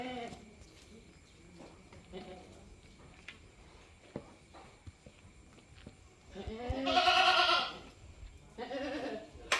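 Midday ambience at a goat farm, Bulungan Mandiri Farm: scattered goats bleat, with one loud drawn-out cry close by near the end, over faint rustling, footsteps and a speaking voice.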